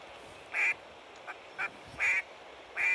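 Ducks quack in the video game Hunting Simulator 2: four short, bright quack bursts spaced unevenly over steady background ambience, moderately loud and with no talking.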